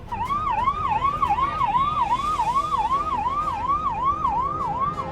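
An ambulance siren wails in a fast, repeating rising-and-falling pattern, loud and close, stuck in a traffic jam with engine rumble beneath.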